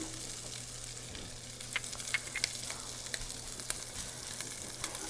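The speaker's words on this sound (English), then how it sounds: "So my sausage is cooking." Sausage sizzling in a hot pan, a steady bright frying hiss with scattered pops and crackles throughout, close and fairly loud with no talking.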